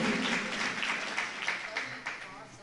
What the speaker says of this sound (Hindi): एक बार तालियां बजाओ जो पाठशाला चलाते हैं उनके लिए